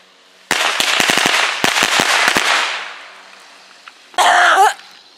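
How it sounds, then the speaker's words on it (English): A rapid string of firecrackers pops and crackles loudly for a couple of seconds, fading out, then a short harsh burst of noise follows. "We're going to light off some firecrackers."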